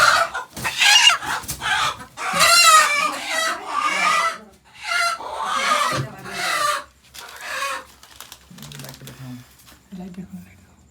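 A rooster near a riverside fishing spot at night clucks and crows in loud, close bursts separated by brief pauses, tapering to softer low calls toward the end.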